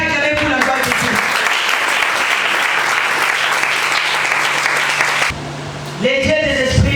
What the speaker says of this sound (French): On peut acclamer pour la gloire de Dieu.